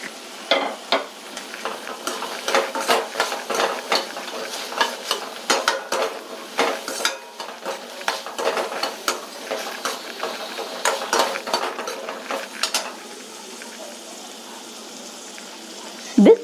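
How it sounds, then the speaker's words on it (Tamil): Chopped carrot, finely cut beans and grated coconut are stir-fried for semiya upma in a pan, with repeated scraping strokes of a spatula over a soft sizzle; the stirring is busy at first and then eases off near the end. "இந்த வெஜிடபிள் ஒன்று வதங்கட்டும்."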